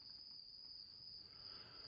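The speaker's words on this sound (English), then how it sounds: "Crickets?" Crickets chirping as a sound effect, a steady high-pitched trill that continues unbroken and fairly faint, with no voices.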